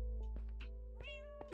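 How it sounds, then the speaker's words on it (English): Cats meowing in the Minecraft video game, a few short tonal meows over a steady background music drone, fairly quiet with no talking. "Oh, cats."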